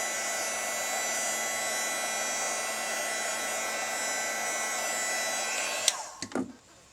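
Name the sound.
heat tool drying mixed media paint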